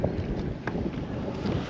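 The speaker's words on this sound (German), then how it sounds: "Es ist immer noch sehr windig" Strong wind buffets the microphone at a marina, a steady rough roar with gusty swells and faint creaks or knocks of boats, continuous and close, with no voices.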